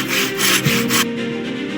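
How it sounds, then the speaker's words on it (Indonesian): A saw cuts through wood in an earthquake disaster simulation video game, giving a steady back-and-forth rasp of strokes that ends abruptly partway through, leaving quiet game ambience. "Gunakan gergaji."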